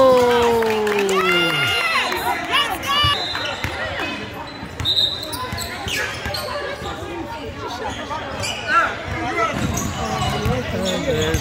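Spectators at a kids' basketball game cheer and shout over repeated ball bounces and squeaking shoes in an echoing gym, with an adult talking nearby and a loud whistle near the start.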